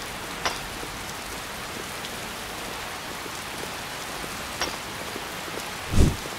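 Rain falls in the video game Skyrim, a steady even hiss of drops with a few faint ticks and a short low thump near the end.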